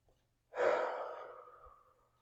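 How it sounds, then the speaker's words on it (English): A single slow breath pushed out through the mouth as a breathing exercise for stress relief, a soft airy rush that swells quickly and fades gradually over about two seconds, close and alone in a quiet room. "So trying it with the exhale out through the mouth."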